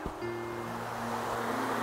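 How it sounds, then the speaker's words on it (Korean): A stream in the Seongju countryside flows with a steady broadband rush of water, close and even throughout, with a faint tonal hum at the start. "아, 물소리 참 좋네요. 시내 물소리."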